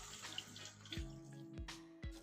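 Running tap water splashing over portobello mushrooms in a kitchen sink as they are rinsed clean, a steady wash broken by a few sharp drips and knocks, close by with no talk.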